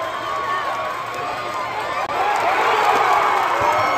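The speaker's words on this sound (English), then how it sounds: "This is one of the most fired up cheering sections I've ever been around." A fired-up high school football cheering section near Houston roars in a steady, dense crowd wash, with shouts and whoops rising over it and staying loud throughout.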